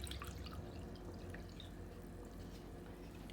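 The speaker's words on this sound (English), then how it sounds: "we're gonna add 2 cups of water." Two cups of water pour into a cooking pot of heating beef broth and stock for soup, a steady, faint trickling splash running continuously under a soft background hiss.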